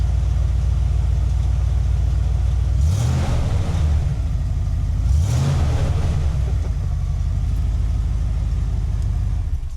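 A Ford Bronco engine idles with a deep rumble through a muffler pushed onto the pipe with no clamps or tailpipe, then revs up twice in quick throttle blips before settling back, loud and close.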